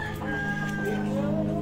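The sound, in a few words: chickens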